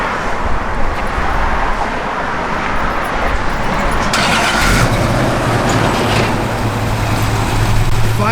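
A 1970 Dodge Challenger R/T with a factory 4-speed and a mild cam fires up and settles into a loud, close, rumbling idle that runs continuously.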